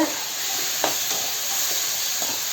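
Tomatoes and vegetables sautéing in a pan for a dried-fish curry, a steady close hiss and sizzle throughout with a few faint stirring scrapes and no talk.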